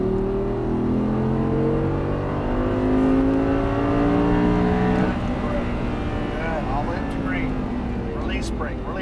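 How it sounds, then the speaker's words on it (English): An Audi R8 V10 accelerates hard out of a chicane at the Exotic Racing track in Las Vegas, its engine note rising and climbing through the revs, loud and close, while an instructor talks over it. "Squeeze on throttle as you accelerate out"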